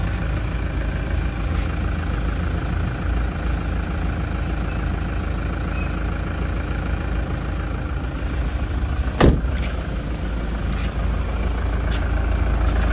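A 2018 Toyota Hiace engine idles steadily after a timing belt change, a close, even rumble with a single sharp click partway through and no talk.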